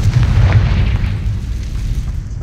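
A Confringo fire spell bursts in Hogwarts Legacy, a heavy, loud, low explosion that rumbles and fades over a couple of seconds.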